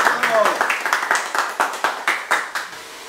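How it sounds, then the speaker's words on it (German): Hands clap in a steady, even rhythm, about a dozen sharp claps close by, played during a spider-on-the-hand challenge. "Ja, klatschen bitte."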